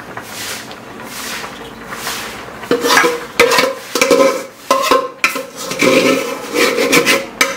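Thick palm fruit pulp is stirred into Gobindobhog rice pudding boiling in a pot: loud wet scraping and rubbing strokes of a spoon against the pan, with soft bubbling and short pauses between strokes.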